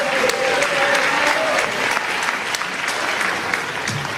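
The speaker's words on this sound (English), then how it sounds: "let's give Mike another round of applause" Applause from a university keynote audience greeting a volunteer named Mike, sustained and fairly loud throughout, with a faint voice briefly audible beneath the clapping.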